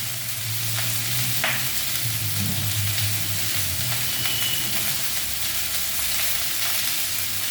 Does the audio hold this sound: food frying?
yes